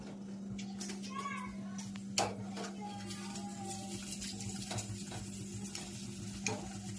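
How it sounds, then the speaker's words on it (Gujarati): Farfar papad strips frying in hot oil make a quiet, continuous sizzle and bubbling, with an occasional stir or clink, under a low electrical hum and faint background voices that include children. "ફરફર તળવાનું શરૂ થઈ ગયું છે"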